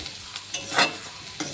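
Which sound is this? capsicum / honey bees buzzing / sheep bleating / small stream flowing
capsicum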